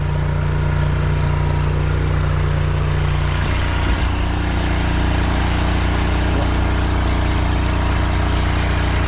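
A drain jetter machine runs steadily at a blocked drain, its engine droning loud and close, with a brief clunk partway through and no voices.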